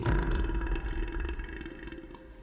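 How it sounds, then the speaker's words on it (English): A burp ability from the video game Smite sounds as a low, rough, guttural belch that rumbles continuously for over two seconds and slowly weakens, with no voices over it. "You don't need to hit them with the full burp to do it."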